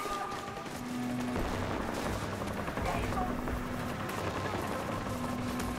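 Gunfire in the video game Rage 2 on PS4 Pro, a dense continuous barrage of shots and bursts with crashing effects under game sound, loud and sustained throughout.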